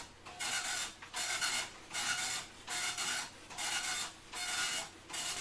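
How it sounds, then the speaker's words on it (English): DMP-130 dot matrix printer printing out a directory listing, its head rasping across the page in six regular buzzing passes about a second apart, each separated by a brief pause, close and clear. "All right, we're printing. The printer's going."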